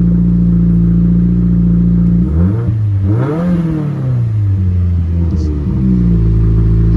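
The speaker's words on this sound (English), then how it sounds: "I might just give it a little bit of a rev so you can hear." Idling close by, the 2022 Subaru WRX RS engine blips once, rising and falling through the exhaust in a single smooth rev before settling back to a deep, steady idle.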